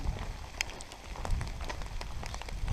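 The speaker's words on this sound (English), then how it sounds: "I like to come out in the rain." Rain falls in the Virginia mountains as a faint, steady patter with scattered individual drops and a low rumble underneath; no voices are heard.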